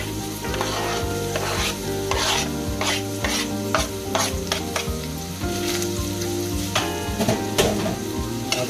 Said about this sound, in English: then of course I can fry off my onions